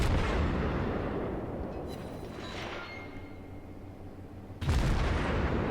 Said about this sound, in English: Now I'm shooting at the Myogi, a tier 4 battleship.